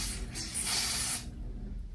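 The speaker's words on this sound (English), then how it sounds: "let's see how this spray works" Hair spray hisses onto a wig in one steady burst of about a second, close and clear, then stops and leaves a quiet room tone.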